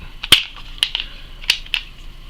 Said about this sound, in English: If it doesn't come out, bang this thing around a little bit.